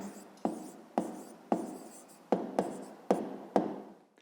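Pen strokes scratch across paper up close, a series of about eight quick strokes in uneven rhythm, each starting sharply and fading, as an answer is written out for a fifth-grade math exercise.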